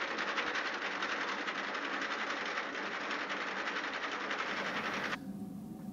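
A braiding machine feeds sixteen nylon spools into a braid around a carbon nanotube yarn core, giving a steady, fast mechanical clatter close by that runs continuously, then drops slightly in level near the end.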